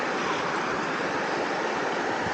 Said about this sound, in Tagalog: Tapos malakas yung agos ng tubig dito.